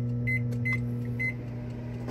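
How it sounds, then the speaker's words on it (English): A microwave oven hums steadily up close, with several short electronic beeps from its keypad near the start as it is set to heat spicy instant noodles. "I'm gonna pop it in this microwave here"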